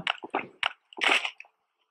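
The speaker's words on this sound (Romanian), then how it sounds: "hai să bem apa." Drinking water in the Last Day on Earth survival video game: a short series of wet gulping, squishy swallowing sounds, close and clear, followed by a brief sloshing gulp, then silence.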